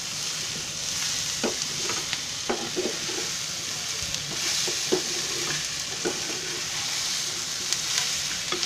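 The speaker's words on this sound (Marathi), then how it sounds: "याचं पूर्ण हलवून घ्यायचं" Farsan chivda and vegetables frying in a pan, with a steady sizzle and repeated scraping strokes as the mix is stirred, close and clear.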